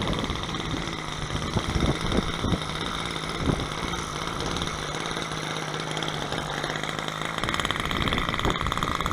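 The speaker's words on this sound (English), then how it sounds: "With an Evolution 10cc gas engine" An Evolution 10cc gas engine on a model aircraft runs continuously at a steady buzzing throttle, loud and fairly close, with rough mechanical clatter and no speech.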